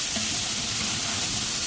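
Chicken pieces sizzling in a frying pan, a loud, dense, unbroken hiss of frying close up with no voices.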